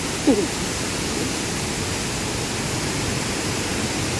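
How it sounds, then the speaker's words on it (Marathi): Continuous roaring rush of Savdav waterfall in Sindhudurg, Konkan, a dense, unbroken wash of falling water with no voices. "हा आहे आपला लुक सावडाव धबधब्याचा"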